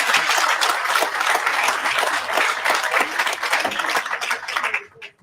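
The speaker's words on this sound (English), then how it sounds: "Can we give him the round of applause?" An audience at a community launch event in Mitchells Plain, Western Cape, breaks into dense, steady applause that holds loud and close for about five seconds, then quickly dies away.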